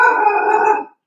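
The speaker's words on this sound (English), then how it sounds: "It's the dog going nuts." A dog howls and barks nearby in a home kitchen, one sustained, wavering, agitated cry that lasts under a second and then stops abruptly.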